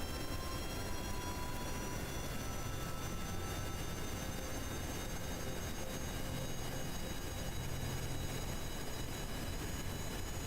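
Steady, loud rocket engine roar from a craft under throttle in Kerbal Space Program, a dense continuous rumble with a faint high whine running unbroken throughout, no voices.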